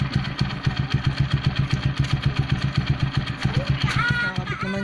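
A Gamma 200 motorcycle with an Akrapovic carbon fiber muffler and its silencer fitted idles nearby with a steady, rapid, thumping exhaust pulse; someone talks briefly near the end.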